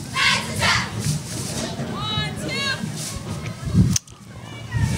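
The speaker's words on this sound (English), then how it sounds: "that crowd mic is crazy loud" Football game crowd picked up by a loud crowd microphone, a dense roar and babble with scattered shouts and whistles, a sudden thump near the end, and commentators talking over it.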